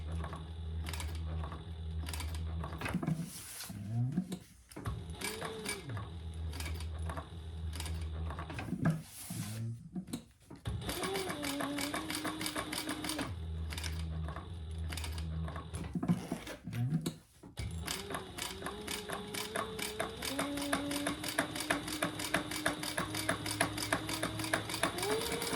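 A sewing machine top-stitches a shoulder bag with a zipper in rapid mechanical runs that briefly pause and restart, the needle chatter dense and steady near the listener.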